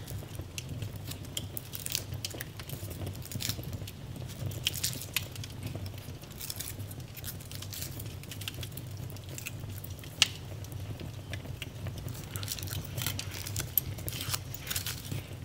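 Someone bites into and chews an Oreo creme egg, with soft irregular crunches and wet mouth sounds, close and fairly quiet, plus a few sharp clicks.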